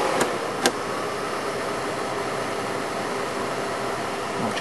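A modded Xbox 360 cooling fan runs at 10.5 volts with a steady, even airy whir and a faint hum. Two brief clicks sound near the start, then the whir continues unchanged, with no voices.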